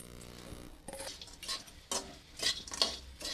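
A grated coconut and jaggery filling for kadubu is stirred in a pan over a low flame, with close, intermittent scraping and clinking strokes of the spoon against metal and no voices.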